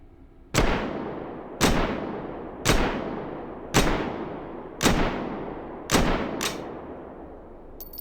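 Six widely spaced single gunshots from a French Union rifle fitted with a TFU32 conversion kit in a video game, each a sharp loud crack with a long decaying echo, fired at a slow steady rhythm with a quieter shot near the end.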